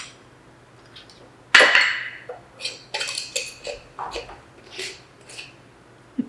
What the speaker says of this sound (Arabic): أتأكد بأنه تنخلط كل زين الملح ويا البهارات